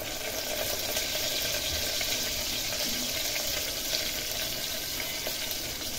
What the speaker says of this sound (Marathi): 2 मिरच्या उभ्या चिरून घेतल्यात मी, कढीपत्ता घेतलाय, तो पण टाकायचा आहे फोडणीमध्ये